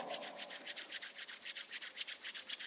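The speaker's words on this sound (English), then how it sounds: "rub your palms together" Palms rubbed briskly together during a yoga class, making a close, rhythmic swishing friction with about a dozen even back-and-forth strokes and no talk.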